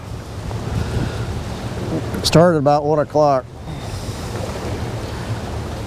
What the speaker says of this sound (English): the wind's still pretty tough